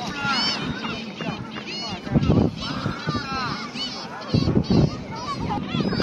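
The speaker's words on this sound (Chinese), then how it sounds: "看看这个台阶上这些海鸥啊" Many seagulls call and squawk on seaside steps at a big coastal plaza. Repeated harsh cries overlap near and far, and people talk alongside them in a busy outdoor crowd.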